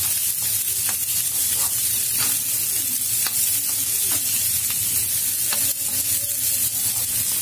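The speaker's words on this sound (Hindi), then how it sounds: "वेजिटेबल हमारी हल्की फ्राई हो गई है" Mixed vegetables and peas fry in a pan over medium heat for vegetable dalia, giving a steady loud sizzle with repeated scraping stir strokes throughout.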